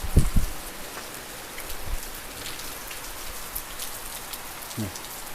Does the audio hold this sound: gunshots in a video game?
no